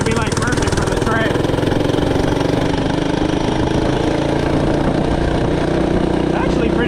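A small FRP GMB-100 minibike engine runs loud and close with a steady buzzing drone, holding revs throughout, while someone talks over it.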